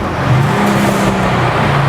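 Mercedes-AMG CLE53 exhaust burbling and popping while driving, a loud close rumble with rough crackly texture throughout, no voices.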